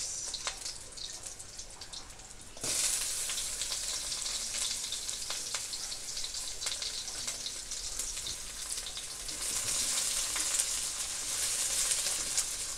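Garlic and onion frying in a pan, a dense crackling sizzle that starts quieter and jumps louder a few seconds in, then continues steadily close by with scattered pops.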